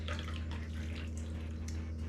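Hot coffee sweetened with dissolved sugar is poured over ice cubes, making a steady liquid splash and trickle over a constant low hum, with no talking.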